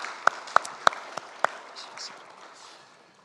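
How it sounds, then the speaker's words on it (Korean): A church congregation at a Sunday service claps to welcome a new member, starting with a few sharp, well-spaced claps and then fading into softer, scattered clapping across the room. "저쪽에 계신 분들의 박수로 환영하겠습니다."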